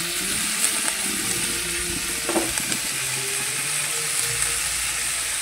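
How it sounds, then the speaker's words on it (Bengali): Vegetables with peas being stirred together in a frying pan while cooking a vegetarian khichuri, a steady close sizzle with soft scraping of the spatula and a few light knocks, no talking. "একটু সবজিগুলো একসঙ্গে মিশিয়ে নিচ্ছি।"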